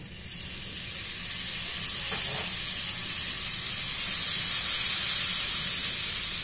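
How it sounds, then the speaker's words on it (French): A tablespoon of white vinegar deglazes a hot oiled pan, producing a continuous loud hissing sizzle that swells and then holds steady, with no talking. "Je vais venir déglacer tout ça."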